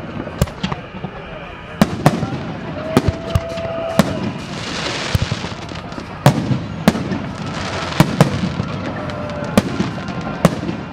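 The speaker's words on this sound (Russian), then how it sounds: "Над городом гремел салют." A fireworks salute over a city, booming and crackling repeatedly in the distance, sharp bursts at irregular intervals over a steady crowd murmur, with a whistling rocket rising briefly.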